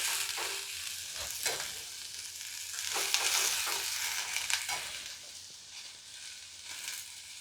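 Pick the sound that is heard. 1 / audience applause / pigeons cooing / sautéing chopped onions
sautéing chopped onions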